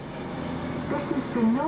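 A Northern passenger train pulls into a station on the Buxton to Manchester Piccadilly line, with a low rolling rumble that swells into a brief rising whine near its end.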